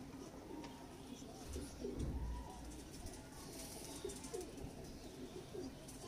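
Pigeon of a Mian Nazeer bloodline, one of a breeder pair, cooing softly in a few low repeated phrases against steady background noise.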